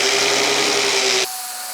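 A power tool polishing a rusty shaft from an Ariens snow blower, a loud whirring grind with a steady tone that cuts off abruptly after just over a second, leaving a quieter hum.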